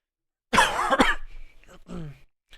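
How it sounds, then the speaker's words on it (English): A few harsh coughs close by, a sharp burst followed by a couple of rougher, throaty coughs and a brief catch at the end. "Apologies for the coughing"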